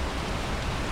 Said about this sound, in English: It's our third major rain squall today.